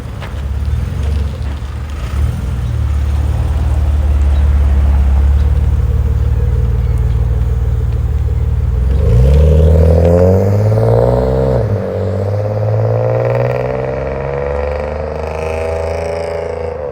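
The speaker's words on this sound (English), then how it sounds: "Woo-wee, that thing sound good, boy." A car with an aftermarket exhaust revs and rumbles with a deep, throaty exhaust note, pulling away and shifting as it drives, loud and close throughout.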